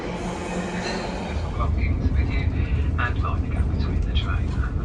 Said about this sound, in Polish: Tu sobie przejeżdża pociąg towarowy